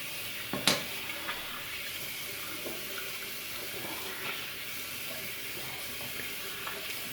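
A safety razor is rinsed under a running tap, with a steady close splash of water into a sink, a couple of sharp knocks near the start and small clinks later, and no talking.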